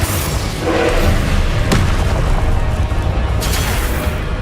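A Confringo explosive spell bursting in Hogwarts Legacy, a heavy close boom with a sharp crack partway through over dense, rumbling combat noise, loud and without talk.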